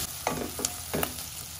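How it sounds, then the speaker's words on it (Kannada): Finely chopped onions fry in a little oil for a pea tomato bath, a soft steady sizzle broken by three quick stirring scrapes, close and without talk. "ಈರುಳ್ಳಿ ಕೂಡ ಚೆನ್ನಾಗಿ ಫ್ರೈ ಮಾಡ್ಕೊಳ್ಬೇಕು"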